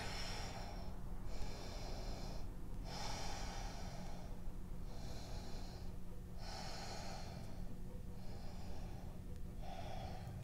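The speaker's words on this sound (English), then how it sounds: "Look at your toes, four UJ breaths." Slow, steady ujjayi yoga breaths, each a soft, hissing, throaty inhale or exhale lasting about a second, separated by brief pauses, repeating evenly against faint constant background hum.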